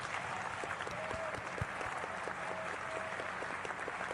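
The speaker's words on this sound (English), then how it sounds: "We'll clap it up for Ben" A livestream audience applauds a guest with steady, dense clapping throughout, fairly close and unbroken, with a few faint voices under it.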